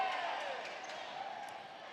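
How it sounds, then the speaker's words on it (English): A crowd at a high school basketball tournament game reacts in a gym with a diffuse wash of murmuring and cheering that slowly fades, heard at a distance. "Crowd reaction there."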